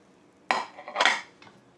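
Pots and dishes picked up in a kitchen: two or three quick metallic clinks and clatters of cutlery and pans, close by and alone.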